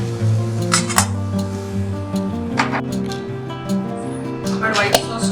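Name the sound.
stirring cooked vegetables in a pan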